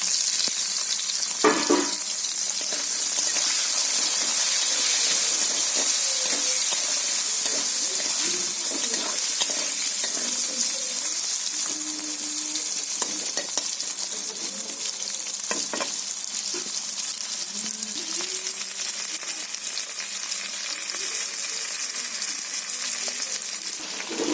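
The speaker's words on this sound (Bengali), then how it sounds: "এখন আমি কড়াইতে একটু ভেজে নিয়েছি" Onion, peanuts and green and red chillies fry in a wok with a loud, steady sizzle and crackle, occasional stirring scrapes breaking through, and a voice talking faintly underneath.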